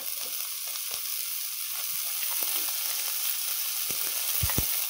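Vegetarian bean sprouts with tofu and chives stir-frying in a pan, a steady loud sizzle throughout with a few scattered spatula scrapes and knocks, no voices.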